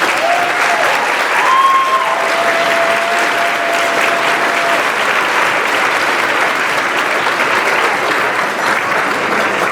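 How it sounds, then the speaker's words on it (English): Diners at a graduation dinner give a sustained round of applause, a thick, loud wash of clapping that stays steady for the whole stretch, with a few faint tones sliding in early on. "May we please give them a round of applause."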